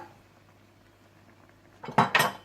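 A spoon knocks and scrapes in a karahi as spices are mixed into chops, two sharp metallic clatters close up after a quiet stretch of low background hum.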